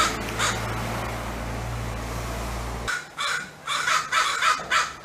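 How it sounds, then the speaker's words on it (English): Crows give a run of loud, harsh caws, about six rhythmic calls in the second half, following a few faint calls over a steady low hum and outdoor noise. "The remarkably loud caws, clicks, rattles, and coos they make imply different messages to their gangs."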